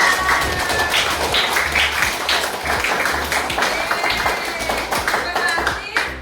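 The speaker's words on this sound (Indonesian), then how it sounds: "Tepuk tangan dulu semuanya." Fifth-grade schoolchildren clap together in a classroom during a lesson, a loud, close burst of mixed individual claps with chatter and children's voices mixed in, fading slightly at the end.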